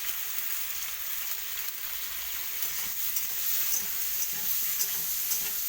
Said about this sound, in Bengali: ভালো করে তার মধ্যে মিশিয়ে দেবো হলুদটা